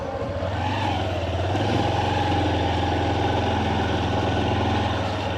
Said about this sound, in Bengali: সকাল তো মানে খালি রয়েছে, তাই আমরা একটু বাইক নিয়ে ঘুরছি।